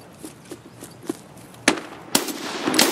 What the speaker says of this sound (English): Drop one with a pistol.